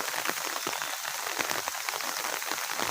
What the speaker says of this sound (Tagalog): maulan ang araw ngayon. May low pressure.